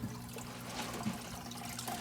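Water trickling and running through a hydroponic system's filter with clay pellets, a quiet, steady flow with light splashing over a low hum.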